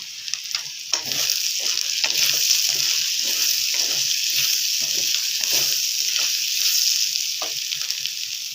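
Ivy gourds (dondakaya) sizzle and crackle in a hot pan with steady frying noise, broken by repeated soft stirring scrapes, close and fairly loud throughout, with no voices.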